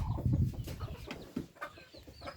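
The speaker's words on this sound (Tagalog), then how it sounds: "So ito na nga pala yung mga sisiyaw natin, ayan, medyo magaganda na, malalaki na sila." Young duckling chicks peep and cheep close by in a busy, overlapping chorus of short calls, with soft rustling underneath and no talking.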